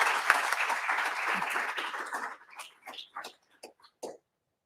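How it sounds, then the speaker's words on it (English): Audience applause, dense and sustained at first, then thinning into a few scattered claps before fading out. "Let's give them a big round of applause."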